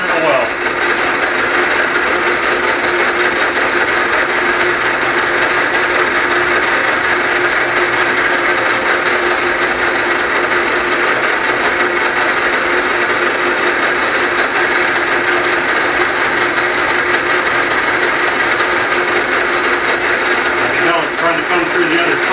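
A Bridgeport milling machine drills through a workpiece with a lightly oiled bit, a loud continuous whirring grind that holds steady for over twenty seconds without letting up.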